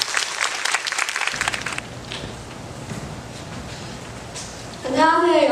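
A crowd claps steadily, then the applause fades into murmuring room noise before a voice begins speaking over a microphone.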